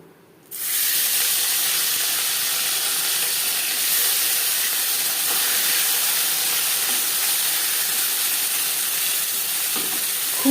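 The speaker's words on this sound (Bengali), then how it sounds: "প্রথম ব্যাচের মাছ আমি একটু কড়া করেই ভেজে নিলাম" Small mourola fish fry in hot oil in a pan with a loud, steady, close hiss and sizzle that holds evenly for about ten seconds after a sudden start.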